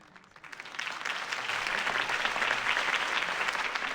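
A large crowd in the video game Batman: The Telltale Series applauds after a campaign speech, starting softly and swelling within half a second into steady, dense clapping that holds to the end.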